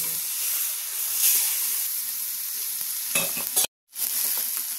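Chayote with chicken breast and shrimp sautés in a pan with no oil, a steady close sizzle and hiss with a few stirring clatters, broken by a brief cut to silence near the end.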